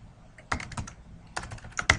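Typing on a computer keyboard comes in two short bursts of close, crisp key clicks with a pause between them, and there is no talking.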